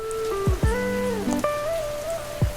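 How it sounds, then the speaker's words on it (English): Steady rain falls in the Toca Boca video game after a thunderstorm, a continuous patter playing under a soft musical melody with a few low thumps. "Still raining, but I guess that should be normal after a little thunderstorm and stuff."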